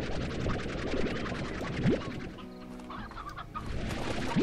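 Chickens in the Slime Rancher video game cluck and scratch steadily, a busy flock close up with a few sharper calls rising through the noise.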